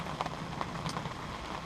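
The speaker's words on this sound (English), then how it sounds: "it's pissing down with rain" Heavy rain at a carp fishing lake, a dense steady patter with scattered louder drops hitting nearby surfaces, continuous with no talk.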